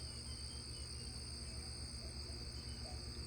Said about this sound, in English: Crickets are chirping, the birds are singing.